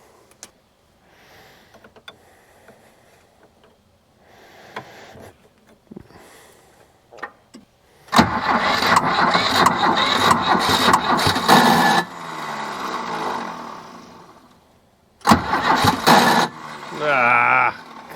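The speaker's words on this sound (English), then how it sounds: "Come on, starter, hang in there. I think it's trying to go." A starter cranks the diesel engine of a cheap, rough 4x4 man-lift that is short on fuel. It makes two long, loud, grinding bursts with quieter clicks and a few voices between them.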